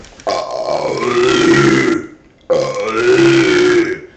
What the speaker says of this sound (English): you're supposed to burp. Get the gas off your stomach